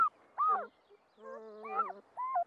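High, wavering whimpers and squeaks from puppies come in short bursts with brief pauses, close and fairly soft.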